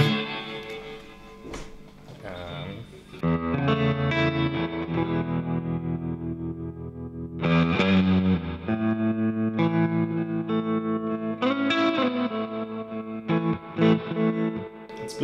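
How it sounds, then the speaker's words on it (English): Electric guitar through a BluGuitar Blubox into vintage amps with the reverb turned up, sounding a steady run of strummed, slightly distorted chords and phrases whose tails ring out in a lush ambient wash, loud and continuous without any voice. "let me turn up the reverb a little more."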